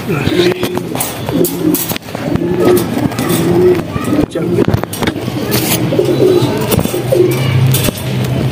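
A pigeon coos in soft repeated low phrases, close by, with someone talking over it and light outdoor background noise.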